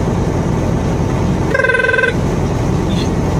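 A telephone rings once in a short electronic trill, clearly standing out over a constant low rumble like a truck cab interior.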